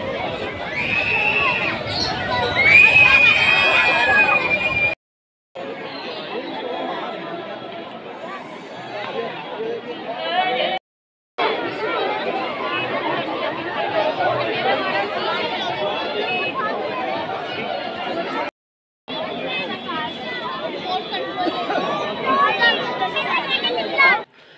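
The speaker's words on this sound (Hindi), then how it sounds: "चारों तरफ भीड़ी भीड़ दिखाई दे रही है" A dense crowd babbles at the Uttrayani fair at Utthan Manch in Haldwani, a continuous hubbub of many overlapping voices and chatter, broken by a few abrupt silent cuts.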